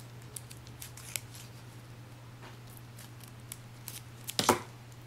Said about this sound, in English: you can just cut the corners here a little bit on both sides